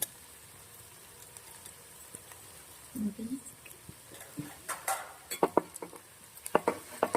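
A spoon scrapes and clinks against a pot while turmeric is stirred into fish curry, the irregular metallic taps growing louder and quicker toward the end over a faint background hum.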